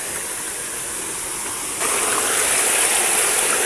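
Stream water rushes steadily and close in a steady broadband wash, growing a little louder midway, at a river bathing spot where carabao wallow upstream.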